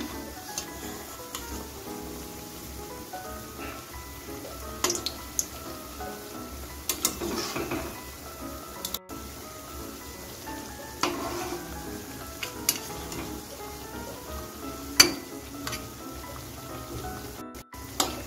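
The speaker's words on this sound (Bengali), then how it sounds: "দেখুন আমি অল্প অল্প করে ভেজে নিচ্ছি।" Thekua frying in oil over low gas and being turned, a faint steady sizzle with scattered clicks and scrapes from flipping, close and without talk.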